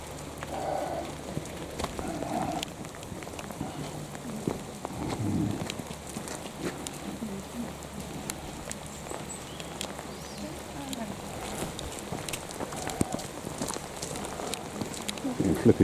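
Steady rain pours down outdoors in a continuous broadband hiss, with scattered sharper drop impacts and low rumbles underneath and brief bursts of voice mixed in.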